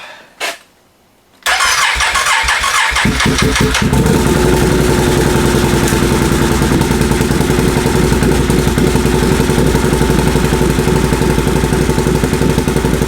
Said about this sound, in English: Fire on both cylinders.